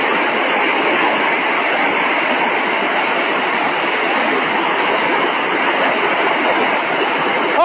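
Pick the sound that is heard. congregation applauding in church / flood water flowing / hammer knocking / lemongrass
flood water flowing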